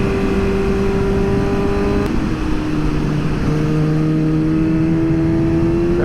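A Suzuki GSX-S 750 motorcycle fitted with a Power Commander 5 custom tune holds a steady engine drone, then its pitch dips and rises again as the throttle is blipped. It sounds close and loud throughout, with no one talking.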